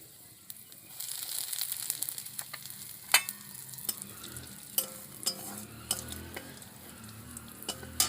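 Asafoetida dropped into hot oil while cooking semolina kofta, a steady soft sizzle with sharp scraping clicks of stirring scattered throughout, close by with no talk.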